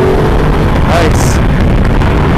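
A 2015 Ducati Multistrada 1200 S rumbles with heavy wind buffeting as it pulls away under acceleration, its engine grunt partly masked by rushing air, with a voice speaking briefly.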